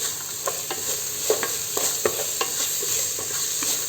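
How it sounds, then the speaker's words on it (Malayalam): Salt being stirred into a pan of vegetable biryani, with a spoon scraping in soft, irregular strokes and a light sizzle underneath, close up and fairly quiet, with no voices. "നന്നായിട്ടൊന്ന് ഇളക്കി കൊടുക്കാം"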